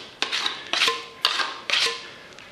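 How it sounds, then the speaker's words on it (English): Two metal filling knives scrape against each other and through creamy wall filler during room decorating preparation, four distinct rasping strokes in a steady rhythm, close and clear with no talking. "Take your second filling knife, put that on here."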